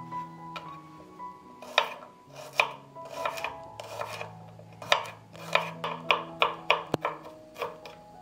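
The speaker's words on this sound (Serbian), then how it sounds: "Prvo ću iseckati 6 češnja belog luka." Six garlic cloves chopped with a knife on a board, a run of sharp, close knocks that come unevenly at first and then quicken into a rapid rhythm, with no voices.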